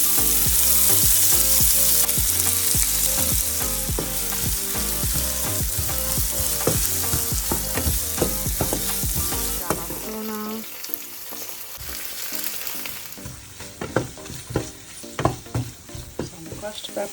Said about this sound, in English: Heat some olive oil, some butter, cloves of garlic. Once brown, add in onions.